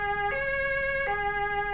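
A siren wails in the Altis Life game, its steady harmonic tone stepping in pitch twice in a repeating two-tone pattern, loud and continuous with no talk.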